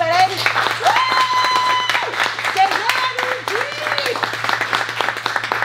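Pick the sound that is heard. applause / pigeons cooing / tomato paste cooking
applause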